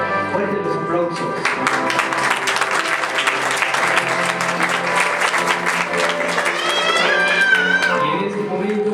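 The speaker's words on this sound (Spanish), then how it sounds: "Fuerte los aplausos." Wedding guests in Cantel, Guatemala applaud over loud music, the clapping running under a melodic band throughout with some voices.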